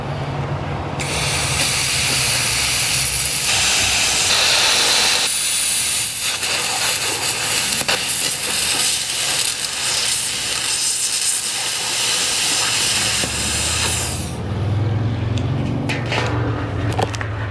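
A small VEVOR CUT50P plasma cutter slices through metal with a loud, steady roaring hiss that runs almost continuously for about fourteen seconds, then cuts out and leaves a quieter low rumble.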